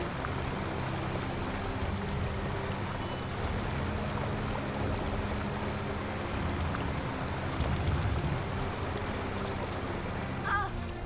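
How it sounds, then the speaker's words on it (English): Loud waterfall in the video game American McGee's Alice: a steady, dense roar of rushing water fills the whole stretch without pause, close and constant, with faint game sounds now and then. "That is a loud waterfall."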